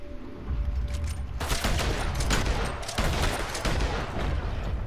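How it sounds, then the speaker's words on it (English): Video game shotgun fire sets off a loud dense barrage after a quieter opening second. Blasts come in rapid succession and blend into a sustained rattling roar close by, with a brief gap near the third second. "Still trying to shoot me while I was shooting you with the shotgun"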